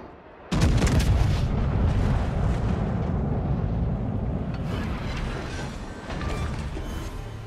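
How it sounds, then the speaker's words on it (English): Naval guns firing at an enemy warship in a video game, a sudden heavy blast followed by a long, loud, rumbling roar that slowly fades, with further crackling bursts near the end. "Concentrate fire on the enemy warship."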